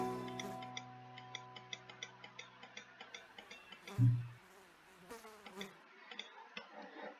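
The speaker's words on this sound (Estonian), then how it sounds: "Kärbsed." Flies buzzing in the Roblox game Bloxburg, a quiet, continuous insect drone with a run of small, regular ticking clicks and one brief louder bump midway, with no speech.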